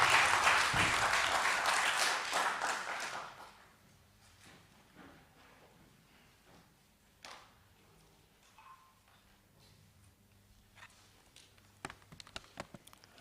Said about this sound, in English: Let's give a round of applause to Professor Maria Rosa Tapia.